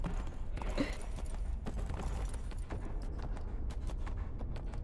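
Horse hooves gallop in the Neverwinter video game, a steady run of soft clip-clop beats under a dense, busy game soundscape.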